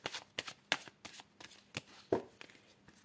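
A deck of Lenormand cards is shuffled by hand, giving soft, close riffling and flicking bursts in an uneven rhythm, quiet and without talk.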